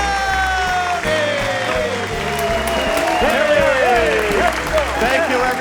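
A live studio audience welcoming the hosts of a comedy talk show bursts into loud, sustained applause with cheers, while voices talk over the clapping.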